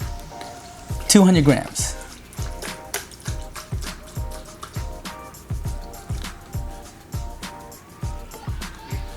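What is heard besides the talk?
pouring unsweetened almond milk into a mixer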